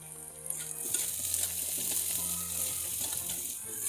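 Onions with turmeric sauté in a pan for a bottle gourd stir-fry, a steady close sizzle with scattered stirring scrapes running throughout, no voices.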